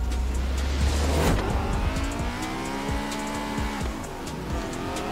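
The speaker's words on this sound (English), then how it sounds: "Come on, baby, let's try to win with my beautiful Honda S2000." A Honda S2000 races around Holyrood Park Circuit in the rain in Forza Horizon 4, its engine revving high and loud, with pitch sweeps as it shifts gears and brief tire squeal alongside, nearby and steady throughout.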